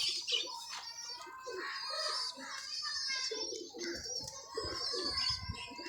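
Pigeons coo and flutter close by, with steady bird chatter and soft clucking layered throughout.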